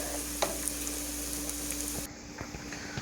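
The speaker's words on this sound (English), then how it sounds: "So let's give this a good stir. Look at them onions, y'all." Onions frying in a pan get a good stir: dense close sizzle with a few scraping knocks, then the sizzle drops noticeably quieter near the end, no talking.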